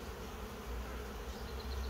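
Swarm of honey bees returning to a covered hive, a continuous close buzzing hum of many wings at steady loudness with no talking.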